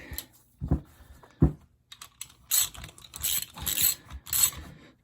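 A ratchet wrench tightens the rear sprocket bolts on a vintage Honda CL350 motorcycle. Close, crisp clicking comes in short bursts, with a few heavier knocks early on and denser rapid ratcheting toward the end.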